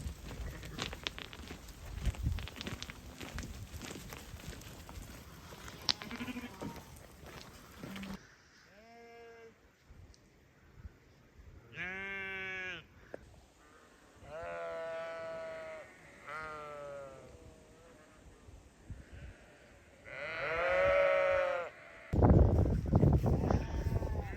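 Lambs on a farm bleating in several short separate calls, some clear and close, between quieter stretches and light shuffling.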